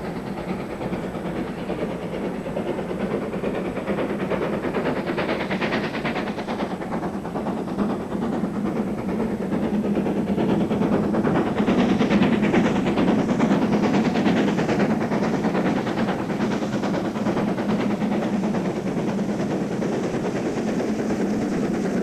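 Great Western Railway express steam locomotive under way on a loaded test run on the Great Central route, a steady rolling roar with rhythmic chuffing and clatter that swells slightly midway, continuous and fairly close with no voices.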